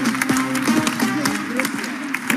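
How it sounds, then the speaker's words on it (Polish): An audience applauds at a DuoLife business leadership event with scattered, uneven clapping. Someone talks over the clapping and a low hum runs beneath it. "Brawo, moi drodzy, wielkie brawa."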